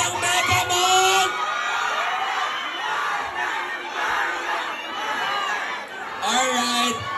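A premiere-night crowd screams and cheers loudly and continuously, a dense mass of voices with whoops rising and falling, while an announcer's amplified voice speaks over the roar at the start and end.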